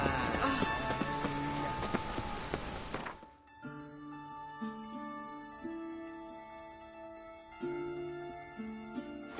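Rain falling in the video game The Witcher 3, a dense steady patter for the first few seconds before it cuts away to quieter in-game music, at low volume with no speech.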